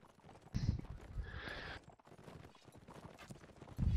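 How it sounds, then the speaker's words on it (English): Horse hooves clip-clop in a video game, with scattered hoofbeats and thuds coming in uneven bursts alongside other game effects, moderately loud with no voices. "Some shots coming in, Wiley Sly on the left side, his horse taking a hit."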